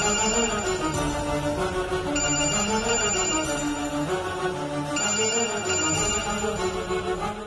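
A telephone rings with a repeating melodic ringtone that loops several times at an even, loud level.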